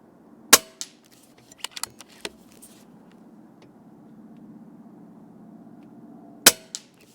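A Pinty Striker PCP .22 air rifle fires pellets at a target 50 yards away, with sharp, brief cracks and faint impacts spread across the stretch, the two loudest standing out at the start and the end over a low background rumble.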